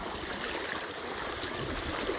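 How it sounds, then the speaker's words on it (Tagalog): A rocky stream in Barangay San Isidro, Marihatag, Surigao del Sur, flowing over large stones with a steady, close rushing hiss and gurgle that holds even throughout, no voices. "Ang ganda ng Sapa."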